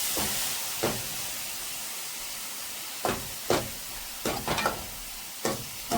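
Chopped onion fries in hot oil with a steady, faint sizzling hiss, while a spoon stirs the pan and scrapes it in short soft strokes now and then.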